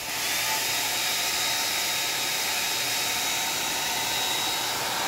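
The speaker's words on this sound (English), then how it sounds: "So to separate the screen you need heat gun or hair dryer." A heat gun or hair dryer heats an iPad Air 2's glass screen, blowing with a steady, loud, breathy whoosh that holds constant throughout, with no other sounds.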